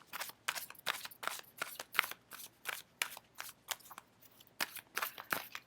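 Tarot cards are shuffled for a reading, a close, quiet run of crisp riffling bursts repeating at a brisk, even rhythm.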